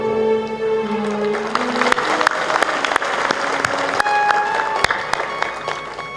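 Audience clapping at a devotional discourse by a saint, steady applause with sharp individual claps standing out, while sustained musical tones sound underneath.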